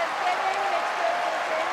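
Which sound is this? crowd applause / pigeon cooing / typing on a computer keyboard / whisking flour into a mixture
crowd applause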